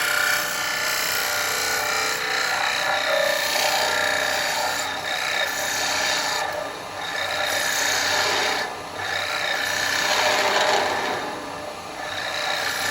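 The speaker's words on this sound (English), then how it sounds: "We'll change over to this spindle gouge," A spindle gouge cuts a yew bowl turning on a wood lathe, producing a continuous rasping, scraping hiss that swells and eases in short surges as the tool works the wood, with no voices.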